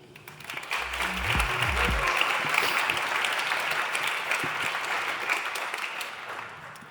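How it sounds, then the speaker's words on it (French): An audience applauding at a digital-sector awards ceremony, many hands clapping in a dense sustained burst that swells quickly and holds steady, with a brief low voice near the start. "Donc on peut les applaudir."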